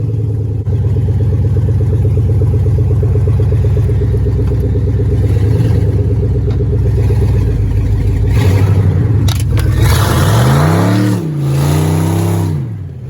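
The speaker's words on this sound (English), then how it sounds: "Dolly burnouts. Man, this is loud." A Dodge Grand Caravan engine roars continuously at high revs with a gritty, sustained drone during a dolly burnout, then surges and dips through a few loud revving swells near the end.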